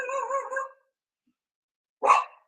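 A dog barking indoors at another dog across the hall, a short run of yips and barks, then a pause and one more sharp bark, close and moderately loud.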